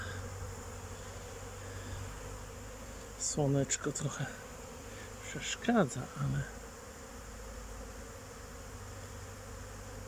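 Honeybees buzz softly and continuously nearby at an apiary, while a person speaks quietly for a few moments over the steady hum.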